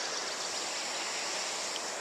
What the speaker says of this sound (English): That's the river in there.